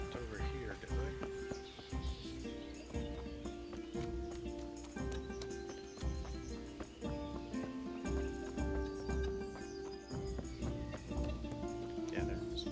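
Horse hooves in Kingdom Come: Deliverance clip-clop steadily over continuous tonal background music, with an occasional whinny.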